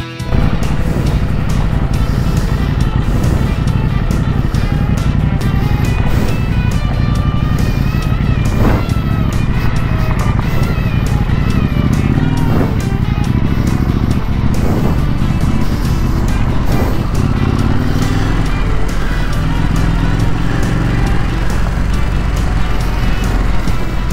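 Trail and maxi-trail motorcycles ride off-road along dirt tracks and trails in the Alpilles, with a steady, loud engine drone running throughout and no talk.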